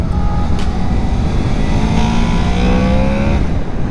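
Honda VFR 800 V-TEC motorcycle engine revving loudly and steadily, its pitch sweeping upward as it climbs through the rev range, heard continuously and close with wind rush underneath.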